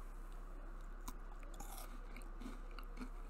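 Someone bites and chews a Kit Kat bar up close, with a few crisp crunches and softer chewing sounds spread over a few seconds against a quiet, faintly humming background.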